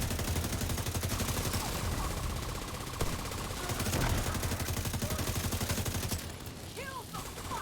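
Rapid automatic gunfire in The Division 2 shooter rattles in long sustained bursts, loud and close, with a player talking over it and chirpy effects near the end.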